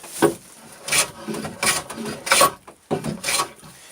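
A hand plane shaves wood for a wagon joint, taking rhythmic rasping strokes of about a half second each, close up and fairly loud, with no voices.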